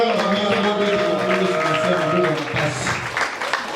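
A church congregation claps and cheers for the Lord during a Sunday service, a dense, loud burst of applause with voices layered over it that thins out toward the end.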